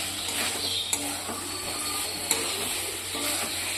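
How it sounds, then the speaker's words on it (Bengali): Pointed gourd with spices being sautéed in a pan, a steady soft sizzle with light stirring and two sharp utensil clicks, fairly close and with no talk. "এবার এটাকে দিয়ে মশলার সঙ্গে একটু পটলটাকে ভালো করে কষাবো"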